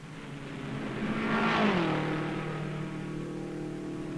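Vintage race cars at the 1958 Daytona race, low-silhouette cars dueling for the lead, roar past with a rising and falling engine note that peaks and fades as they sweep by, loud and steady with no talk.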